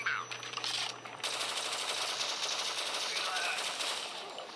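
Rapid automatic weapon fire from the mobile shooter Modern Combat 4, a dense continuous rattle of shots lasting nearly the whole stretch, loud and close, tapering slightly at the end.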